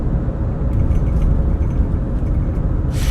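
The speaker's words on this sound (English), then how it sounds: "I know you still hear the background noise of the car that I'm in right now." Steady low road rumble and engine drone inside a moving car, continuous and fairly loud with no talking, a brief hiss rising near the end.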